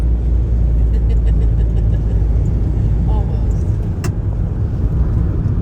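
A car driving along a road, a loud steady engine and tyre rumble heard from inside the cabin throughout, with a brief click partway through.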